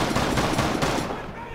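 Rapid video game gunfire sprays into the ground, a dense stream of shots lasting about a second before trailing off.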